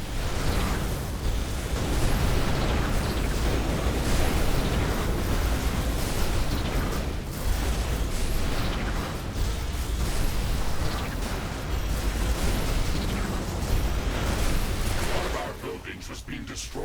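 Explosions of a destroyed defensive tower in the sci-fi game The Riftbreaker: dense, continuous roaring blasts and crackling booms, loud and sustained, with no clear gaps between bursts, mixed with other battle noise.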